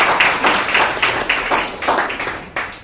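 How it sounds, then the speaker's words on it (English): Scattered clapping from an audience at a debate competition in an institute hall, honouring the chief guest, with distinct uneven bursts of claps that thin out toward the end. "Big round of applause again."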